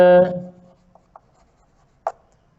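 A few faint, brief taps and scratches of chalk on a classroom board during a Class 9 maths lesson on algebraic identities, following a short burst of a voice at the start, with near silence between the strokes.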